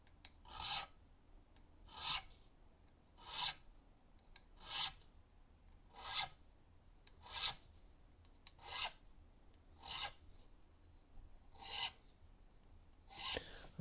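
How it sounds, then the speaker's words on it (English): A cheap triangular jeweler's file rasps across the tops of guitar frets to round them off, about ten even back-and-forth strokes at a steady rhythm, close and clear with no talking. "cheapy jeweler's file, the triangular one for this"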